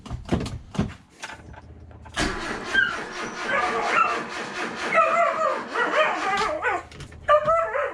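A Toyota KE70 car engine cranks and catches after a battery is hooked up during a build, then runs while a dog barks excitedly and repeatedly close by.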